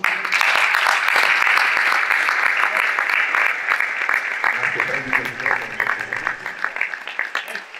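Sustained applause from an outdoor crowd at a town event in Agliè, welcoming the young mayor, dense and steady for the whole stretch and gradually thinning toward the end.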